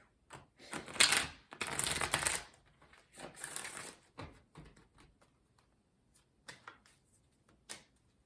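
Oracle cards are shuffled by hand in soft papery bursts, with a longer rustle early on, then scattered quieter flicks and taps, close and faint with no speech.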